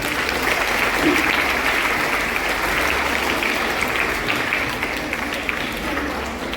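An audience at a school maths club quiz celebration breaks into sustained applause and cheering, a dense, loud wash of clapping and crowd noise lasting several seconds with no clear speech.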